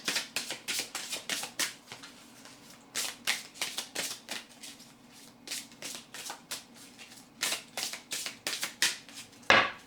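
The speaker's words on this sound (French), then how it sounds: "je vous tire une petite carte dans l'oracle" Oracle cards being shuffled by hand before a draw, rapid bursts of papery riffling and flicking in repeated runs with short pauses between them, close and fairly quiet.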